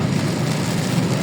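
Heavy rain pours steadily on a vehicle while it drives in Bocaue on a slippery road, a constant broadband hiss with a low road rumble underneath and no talking.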